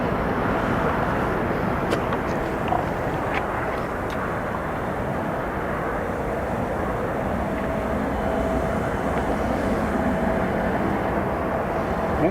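An Italian Air Force C-27J turboprop lands at Newcastle International Airport, giving a loud, continuous engine rumble close by that holds steady for the whole stretch, with a few faint clicks over it.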